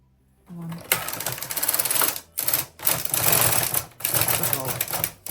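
A Brother KH 260 knitting machine carriage slides across one row with a ribber attached, making rapid, clattering mechanical rattles in several loud bursts broken by short pauses.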